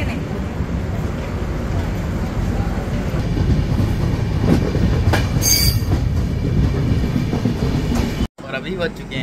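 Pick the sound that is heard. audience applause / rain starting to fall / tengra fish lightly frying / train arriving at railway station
train arriving at railway station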